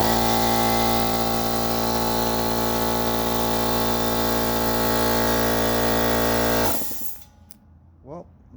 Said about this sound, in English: Well, looks like I have a working compressor.